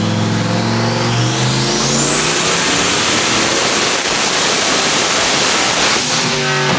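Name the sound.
Ford 351W stroker engine revving on a Dyno Jet dyno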